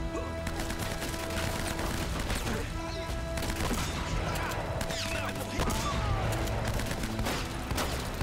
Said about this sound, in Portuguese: Tiro de precisão dele. Agora é o meu tiro de precisão.